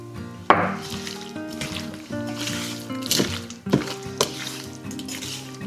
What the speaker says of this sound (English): And then I'm gonna add the juice of 1 lemon.